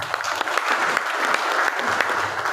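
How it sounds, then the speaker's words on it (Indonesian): A crowd at an Indonesian Pemuda Pancasila youth organisation gathering claps steadily and loudly throughout, a dense continuous round of applause with no voices standing out. "Tepuk tangan semuanya."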